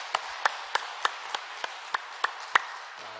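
A church congregation at a Sunday afternoon service claps in encouragement, heard as about nine sparse, evenly spaced claps in a steady rhythm over a quiet room before falling silent.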